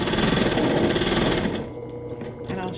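A sewing machine runs a straight seam on a fabric face mask with a fast, steady mechanical whir, then slows and softens to a lighter hum near the end; no one speaks.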